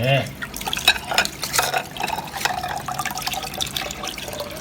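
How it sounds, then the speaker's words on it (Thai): Cuttlebone is rinsed under water to prepare it as a calcium supplement for shrimp, with close splashing, trickling and sloshing as pieces are handled, and faint background noise throughout. "ขั้นตอนแรกเลยล้างน้ำก่อน ล้างน้ำอ่ะ"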